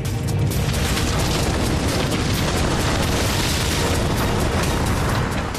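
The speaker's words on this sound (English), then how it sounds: "At the Port Island fire station, the earth begins to shake." An earthquake shakes the Port Island fire station with a continuous, loud, broadband roar and rumble, dense rattling and crashing throughout with no letup, strong low-end energy.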